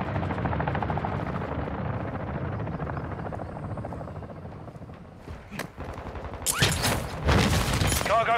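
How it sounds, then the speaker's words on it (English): A helicopter roars in the Call of Duty: Modern Warfare II multiplayer game, a steady throbbing rotor chop that fades slightly before bursts of gunfire and explosions break in near the end. "Cargo helo is inbound."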